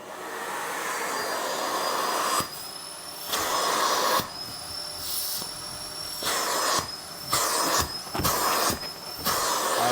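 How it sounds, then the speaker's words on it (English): Hoover vacuum cleaner running at a fireplace, a steady loud airy hiss and whine that keeps cutting out and back in as the nozzle is moved, several brief breaks in the noise. "So I've got a Hoover down here, a trusty Hoover."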